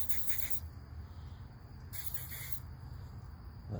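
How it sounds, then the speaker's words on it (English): Two short bursts of aerosol cleaner spray hissing from a can into an engine, close up, with a low steady hum underneath. "We're going to take and spray a little bit more."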